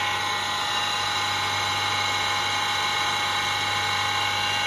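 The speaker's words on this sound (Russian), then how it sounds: "Давайте запустим станок." A homemade lathe runs, with a chuck mounted on an electric motor shaft: a steady, loud, high-pitched motor whine and hum that holds constant throughout with no change in speed.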